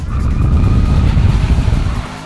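Chevy Camaro muscle car driven hard on a test track: loud, close, continuous engine roar with a rough, pulsing rumble and a hint of tire noise, steady for about two seconds before easing slightly, with no talking.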